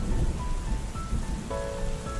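Steady rain falls outside a window, a dense, even patter with a continuous soft hiss and no voices.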